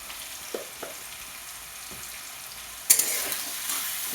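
Potatoes fry in ghee for sabudana khichdi with a quiet, steady sizzle, punctuated by a few soft stirring taps before a brighter burst of hissing near the end.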